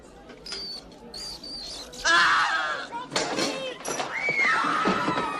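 Man with food in his mouth screams after spotting a bat in a restaurant during a comedic film scene: a loud, shrill, strangled cry among other voices and clatter.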